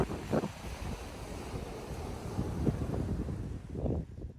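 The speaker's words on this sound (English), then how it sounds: "We have waves crashing below us" Ocean waves crash against a rock below at sunset, heard as low, rolling surges under constant wind rumble, fairly faint and distant with a few stronger swells.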